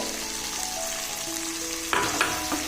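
Green peas dropped into a hot pan for pulav, a steady soft sizzle of frying that jumps to a sharper crackle near the end as they hit the oil, close and alone.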